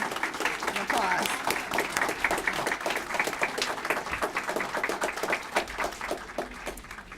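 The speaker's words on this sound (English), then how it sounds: "We can go ahead and clap. An applause." Audience applause at a Latino community conference: dense, steady clapping from a sizable crowd lasting several seconds, fairly close and fading slightly at the end, with no speech over it.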